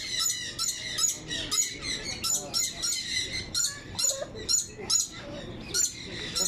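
Birds at Riyadh Zoo give repeated sharp squawking calls in a steady rhythm, fairly close and loud, with overlapping chirps throughout.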